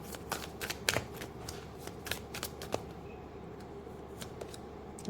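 Tarot cards being handled and shuffled close up, a quiet run of crisp riffling flicks and soft slaps at an uneven rhythm, with no voices over it.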